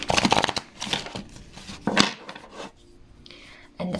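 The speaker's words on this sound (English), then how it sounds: "I'm just going to shuffle your cards" Tarot cards shuffled by hand at close range, a run of crisp papery riffles and slaps in uneven bursts, pausing briefly before a final flutter, with no voices.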